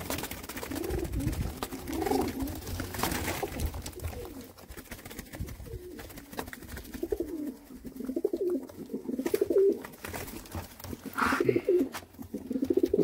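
Pigeons coo repeatedly, close and fairly loud, in a steady overlapping run of soft throaty calls. These are competition and tournament birds of a Jammu border breed, standing together.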